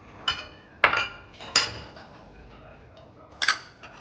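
Chicken cabbage roll filling is mixed in a bowl, with a handful of sharp clinks and scrapes of a utensil against the bowl spaced irregularly over a quiet background, and a voice faintly present.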